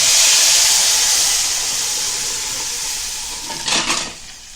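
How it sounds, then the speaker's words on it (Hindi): Dal sizzles and hisses steadily in a pot as a hot baghar tempering is poured in, frying noise loud and close, with a brief clatter of a lid or utensil near the end; no talking. "अभी देखो ये दाल को हम बघार दिए"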